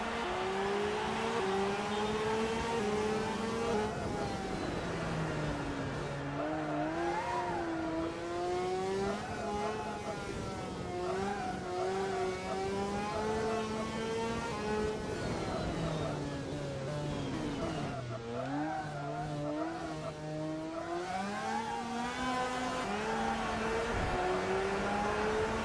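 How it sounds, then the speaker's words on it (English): Motorcycle engine revving in the PS2 racing game MotoGP at the Jerez circuit, a continuous loud whine that climbs and drops with each gear change and corner, with no talking over it. "so you guys can hear the bike"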